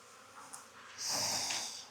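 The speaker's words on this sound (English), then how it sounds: "I just heard myself sniffle" A short, breathy nasal sniffle, close and moderately loud, rising and fading over about a second against quiet background noise.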